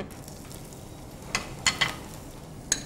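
Chopped onion hitting hot oil in a pan while cooking stuffed keema egg: a soft steady sizzle with a few sharper crackles and spatters, quiet and close.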